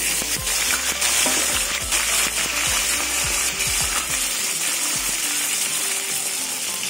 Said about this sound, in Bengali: এই মাছের তেলের মধ্যে পটলগুলো ভেজে নেব।